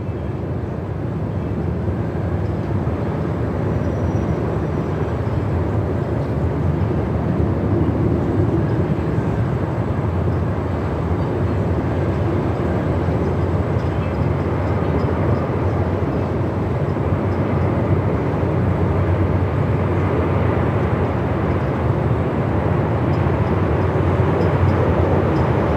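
Jet aircraft take off in strong wind at Melbourne Airport, a steady broadband roar and rumble holding loud and unbroken throughout with gusty wind noise mixed in and no voices.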